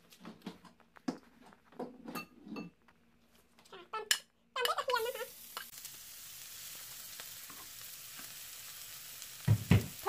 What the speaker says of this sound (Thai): ผัดกระเทียมให้หอมค่ะ